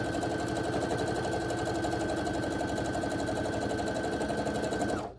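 Quilt pieces cut from charm packs are stitched together on a sewing machine, which runs steadily and evenly with a fast, close mechanical whir and a constant hum, then cuts off abruptly at the end.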